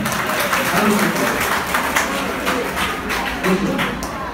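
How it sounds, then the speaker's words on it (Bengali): A classroom audience claps together in a continuous round of applause that lasts a few seconds, close and fairly loud, with a voice faintly under it. "সবাই হাত তালি দাও।"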